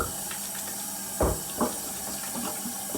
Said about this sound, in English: So, just wash my hands, get all that sticky dough off.